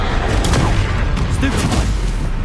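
A burst of fiery spell-casting from the Hogwarts Legacy video game, a dense, loud crackling whoosh with layered game effects and low rumble running through the whole short moment.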